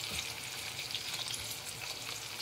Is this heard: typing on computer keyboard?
no